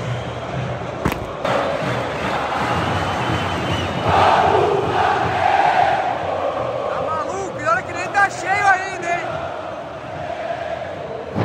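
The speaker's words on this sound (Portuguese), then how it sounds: "Ó a torcida do Flamengo em peso!" Flamengo football supporters chanting inside Maracanã stadium, a dense roaring crowd wall of massed voices that swells midway, with nearby individual shouts and talk rising over it.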